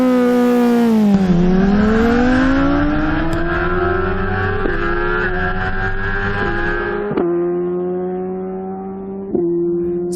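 A Kawasaki ZX-10 class superbike screams through a quarter-mile drag run, its loud engine note sweeping down then climbing steadily through the gears with sharp shift breaks, close and continuous with no talk.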